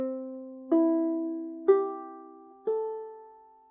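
Ukulele playing the simple tune Hawaii Blues, four clear plucked notes ringing out one after another at a slow, even pace, each decaying before the next, close and alone.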